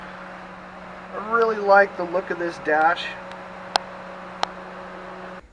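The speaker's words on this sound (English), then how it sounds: "I currently have the fan wired on full speed," Electric cooling fan wired to run at full speed in a Ford F100 pickup with a V10 engine swap: a steady, even drone throughout while someone talks over it briefly, with two sharp clicks near the end.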